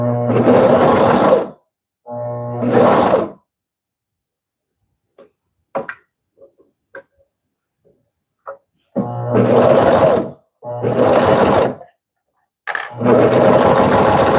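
A Consew CP206RL portable walking foot sewing machine runs in several loud bursts of rapid mechanical stitching, separated by quiet gaps filled with small clicks and handling noises, close up with no talking.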